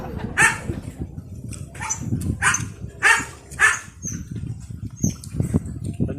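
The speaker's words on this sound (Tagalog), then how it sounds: "Kumakahol yung mga aso mga tol." Several dogs barking in short repeated bursts, fairly close and loud, mixed with yips and rustling in between.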